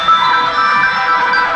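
An electronic alarm rings steadily and fairly loudly, a continuous tonal sound with no pauses and no voices.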